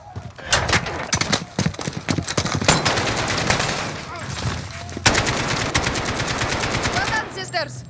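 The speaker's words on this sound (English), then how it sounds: "Point and shoot until they fall." Rapid automatic gunfire from the video game Call of Duty: Modern Warfare (2019) crackles in dense bursts and single cracks, loud and close, with voices briefly heard among the shots.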